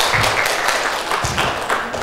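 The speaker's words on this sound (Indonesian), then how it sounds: "Tepuk tangan dong Pak." Brief audience applause at an indoor seminar, a steady wash of clapping for about two seconds.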